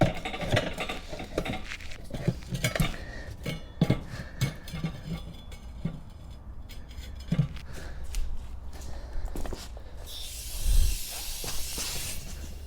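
Compressed air hisses from a nozzle pushed in under a kei truck tyre that is still on one bead, with scattered clicks and taps first, then a loud broad hiss rushing near the end.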